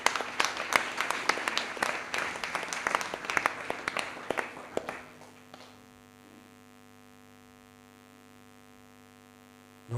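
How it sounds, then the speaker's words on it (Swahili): A church congregation at a Kenyan prayer vigil claps together, dense applause with sharp hand hits for about five seconds that then stops, leaving a steady electrical hum from the sound system. "tumpige makofi mazuri"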